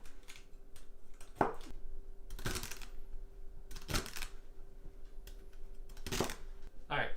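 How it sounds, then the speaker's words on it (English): A knife roughly chopping celery on a cutting board, a handful of sharp, close, separate thunks spaced a second or two apart over quiet room tone. "And just a nice rough chop."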